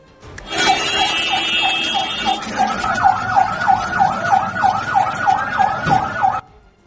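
A wailing ambulance siren sounds loud and close, its pitch sweeping up and down in a fast, steady rhythm for several seconds before cutting off abruptly, in a city where a mosque bombing left many injured.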